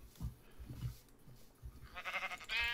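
A sheep in a video game gives a short wavering bleat near the end, following a few soft thumps and footsteps, fairly quiet with no talk.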